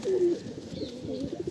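A short-sized Madrasi pigeon in Kolkata coos while being held, starting with a clear low coo and followed by softer murmuring and handling rustle, with no talking.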